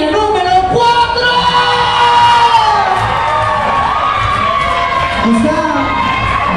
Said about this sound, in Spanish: ¡Aplauso para la línea número 4!